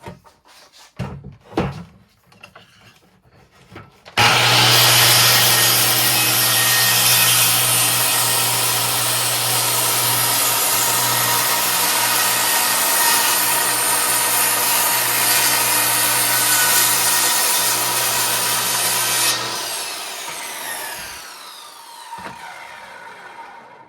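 A power saw cuts across a clamped wooden board in a basement, a loud, steady whining roar lasting about fifteen seconds before winding down, preceded by a few handling knocks.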